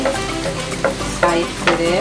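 Potatoes frying in a pan are pushed aside with a spatula, giving a steady close sizzle broken by three or four scraping stirs.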